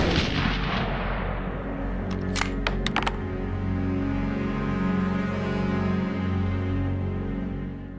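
A hunting rifle shot in the woods booms loudly at the start and decays into a long rolling echo, with a few sharp metallic clicks following and no voices.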